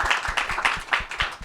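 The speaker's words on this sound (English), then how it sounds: "So a round of applause, please, for the two ladies here on our stage." Audience clapping for two women being welcomed onto a stage at a gaming industry panel session, a brief burst of fairly steady, moderately loud hand claps filling the room.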